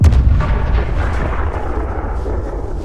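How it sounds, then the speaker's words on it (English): A 1959 American atomic bomb test explosion as a deep, continuous rumbling roar, loud and sustained across the whole stretch, with no voices. "What you're looking at is an American atomic bomb test from 1959."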